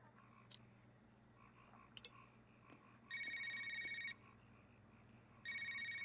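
A phone rings in the Knee Deep video game at a motel, two bursts of bright electronic trilling over a low ambient hum, with a few soft clicks before the rings.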